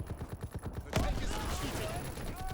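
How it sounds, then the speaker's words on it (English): A single sharp sniper rifle shot cracks out in Call of Duty: WWII multiplayer, sudden and loud with a ringing tail, preceded by a rapid rhythmic rattle of other firing or footsteps. "Another sniper rifle."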